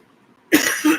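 A sudden harsh cough bursts out after half a second of near silence, followed by a second rougher hack, loud and close with no talking.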